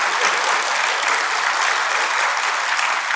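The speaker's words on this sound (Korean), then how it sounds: "다시 한번 박수 좀 한번 쳐주시죠" Loud, even applause from an audience at a church health lecture, continuous and close throughout.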